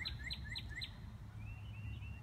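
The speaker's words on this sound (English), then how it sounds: "just listen to the birds for a minute." Birds sing faintly outdoors, three quick repeated chirps followed by a thin, drawn-out whistle over a low background rumble.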